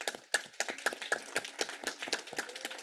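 Audience applause at a community event marking Filipino and Mexican farm worker unity, many hands clapping in a steady, fairly close patter that continues throughout.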